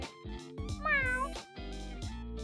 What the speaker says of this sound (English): She is a tortoise-shell cat.